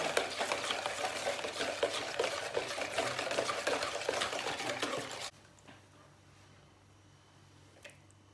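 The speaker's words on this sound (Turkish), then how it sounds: "Bunu bir karıştıralım, çırpalım." A curry powder sauce with thyme whisked briskly in a bowl, a fast rhythmic scraping and sloshing that runs for about five seconds and then stops, leaving quiet room tone with a faint clink.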